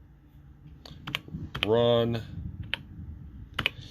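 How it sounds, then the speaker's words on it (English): Typing on a TRS-80 Model 100 computer keyboard, sparse crisp key clicks scattered through the clip, with a brief spoken word in the middle. "typing while holding my phone"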